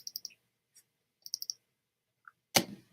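A computer mouse clicks while working in a Camera Raw filter, giving short, sharp clicks in small clusters with pauses between, then a louder dull knock at the end; no one speaks.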